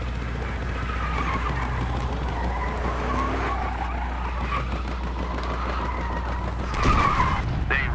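A car in the game Battlefield Hardline skids with long wavering tire squeals over a steady engine drone as it slides and gets stuck, ending in a louder scrape and burst near the close.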